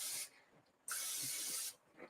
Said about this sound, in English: With cooking spray, because all cooking spray is canola oil or olive oil